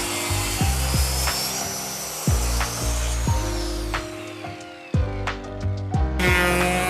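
A saw cuts down through a plywood board in steady back-and-forth strokes, about one rasping pass per second. The strokes are loud and close, with a short pause near the end before a final run.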